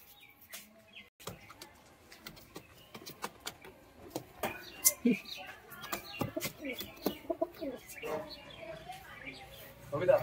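Lalsira and Giribaz flying pigeons kept in pairs coo and call in short, irregular bursts, with scattered clucky bird sounds mixed with a voice talking over them.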